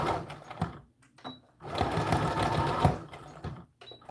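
Sewing machine stitching a doll dress bodice, running forward in two bursts of rapid mechanical whirring and clatter, the longer one lasting over a second, separated by brief pauses and small clicks.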